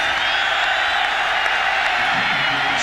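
A sellout football stadium crowd at a 2000 Oklahoma versus Arkansas State college game roars in a loud, steady, continuous wash of cheering and murmur that fills the whole stretch without pause.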